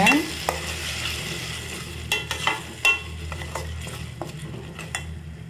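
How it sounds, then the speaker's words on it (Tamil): Ground tomato sautéing in a pan for Chettinad egg curry: a steady soft sizzle with a few sharp spoon-against-pan scrapes and knocks as it is stirred, fairly quiet and close, no voices. "தக்காளி அரைச்சி வச்சுருந்தோம்ல அதை நம்ம இப்போ சேர்த்துக்கலாம் சேர்த்துட்டு நல்லா வதக்கிக்கோங்க"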